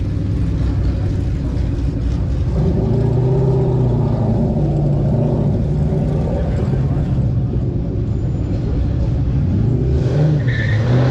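An Impala SS at a drag strip, its engine rumbling and revving steadily throughout under a constant low roar, with people talking nearby over the motor.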